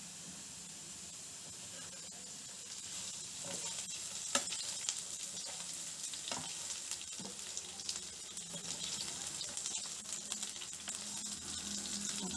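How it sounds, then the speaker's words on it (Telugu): Onions and potatoes fry steadily in a pan with a constant bright sizzle and hiss, with occasional stirring scrapes and small pops, close and fairly quiet with no voices. "ఫ్రై చేసుకుందాం."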